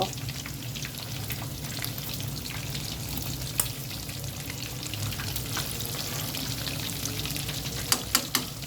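Homemade chicken, three pieces, deep-fries in oil with a steady, fairly quiet bubbling sizzle and occasional sharp pops and crackles, most noticeably near the end.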